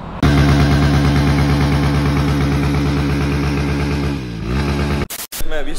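A Yezdi Adventure motorcycle engine runs close by with a loud, steady, throbbing beat, then its tone shifts and dips near the end before brief clattering knocks.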